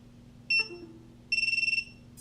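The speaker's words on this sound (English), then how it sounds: "that's our buzzer working" An HGLRC buzzer on a Zeus drone flight controller gives a short electronic beep, then after a pause a longer rapid series of shrill pulsed beeps, close and clear over faint hum.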